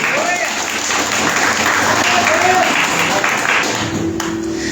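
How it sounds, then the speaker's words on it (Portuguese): A church congregation applauding for the Lord during a sermon, a steady wash of clapping from a crowd with a voice faintly present over it. "Você dá salve de palmas para o Senhor"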